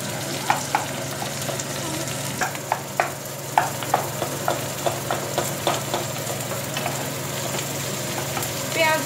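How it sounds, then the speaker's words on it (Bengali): Onions sizzling in oil in a pan for masala bhindi, a steady frying hiss punctuated by a regular series of sharp scraping clicks from stirring, close and clear. "এবার আমরা পেঁয়াজগুলো দিয়ে দেব।"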